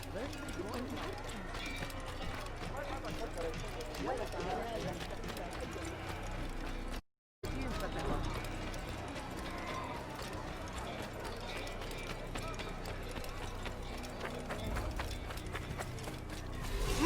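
Horse hooves clip-clopping in Assassin's Creed, a steady trotting rhythm beneath game ambience, with a brief silent gap partway through and spoken dialogue over the sound.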